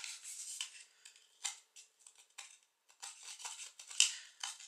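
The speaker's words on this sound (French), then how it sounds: "avec le ciseau, on peut faire beaucoup plus de plus grosses déchirures" Scissors cutting paper, several short separate snips and crisp rustles close by, irregular and fairly quiet, with brief silences between cuts.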